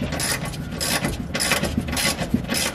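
Ratchet with a deep socket working a 13 mm bolt loose under a 2020 RAM pickup, giving close clicking and grinding mechanical strokes with no voices.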